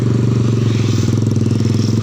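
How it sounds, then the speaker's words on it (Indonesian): Loud modified motorcycle exhaust on a night street ride, a close, throbbing engine burble with a rapid, even pulse that holds steady throughout, no talking. "knalpotnya keras sekali teman-teman"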